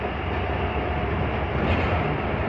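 A train pulls out of Radha Krishna railway station with a loud, steady low rumble and rolling roar, continuous and close from start to finish.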